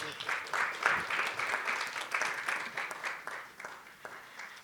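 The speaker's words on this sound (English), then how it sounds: "Please give Ivy a round of applause as she goes on stage" An audience at a climate and environment breakout session applauds as a speaker walks on stage, with steady, moderately loud clapping throughout that gradually thins toward the end.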